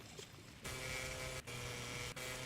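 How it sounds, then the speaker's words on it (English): A helicopter sound effect in a Last Day on Earth survival game, a steady loud broadband whir that cuts in abruptly and runs on with two brief dropouts, following a quieter stretch. "That's a chopper sound."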